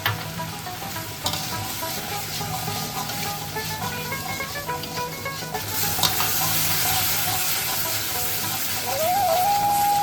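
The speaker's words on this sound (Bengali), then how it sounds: "মশলাটা আমার খুব ভালোভাবে কষানো হয়ে গেছে" Spice paste frying with tomatoes for Bengali prawn malai curry: a continuous loud sizzle with scraping stirs, a sharper burst of frying midway and a faint high whistle near the end.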